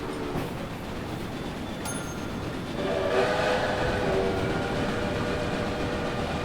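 A train in the Railway Empire game runs on with a continuous rumble and clatter of wheels on rails, growing a little louder partway through, and faint horn-like tones sound at moments; no one speaks.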